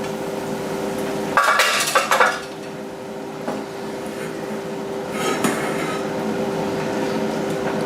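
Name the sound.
browned ground meat dumped into a strainer to drain fat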